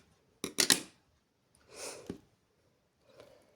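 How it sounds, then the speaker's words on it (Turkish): Sharp scissors snip embroidery thread while finishing a needle-lace flower: a quick cluster of crisp close cuts, then two softer rustling snips, with no talking. "İpini kesiyorum."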